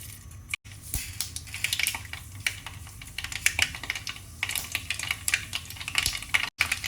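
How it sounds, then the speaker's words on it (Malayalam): Mustard seeds crackle and pop in hot oil for Kerala-style anchovy pickle, with rapid irregular sharp ticks and sizzling bursts close by. "കടുക് പൊട്ടി തുടങ്ങുമ്പോൾ"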